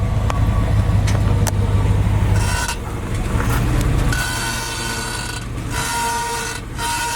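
A failing U-joint in a vehicle's driveline makes abnormal noise while driving, with faint sharp clicks and clunks over a steady rumbling engine and road hum, plus a brief tonal squeal near the end.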